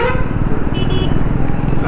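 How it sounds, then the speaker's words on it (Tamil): Vehicle horn honking in street traffic with an engine idling close by, a short bright horn blast in the middle over continuous motor rumble and nearby talk. "வண்டி நடுரோடு நிறுத்திட்டா என்ன ஹார்ன் அடிக்கிறான் ஊசு பையன்"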